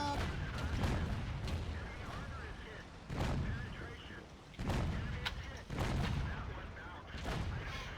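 Tank gun shots from an AMX 13-57 GF with an autoloader in World of Tanks, several loud booming blasts spaced a second or two apart over a rumbling battlefield background, with talk running underneath.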